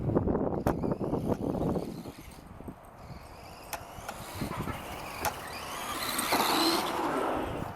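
A small Traxxas 1/16 Summit RC truck drives and slides around corners on concrete, its electric motor whining and rising and falling with throttle, along with scattered clicks and scrapes from the tires and chassis, close by and fairly steady.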